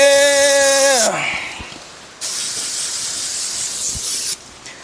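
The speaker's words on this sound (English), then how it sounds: "When that second can of brake cleaner starts hitting, let's go!" Aerosol can of brake cleaner sprays in bursts on a seized engine of an abandoned 1984 Mercedes-Benz, a loud hiss after an engine's descending whine, pausing, then another long close spray.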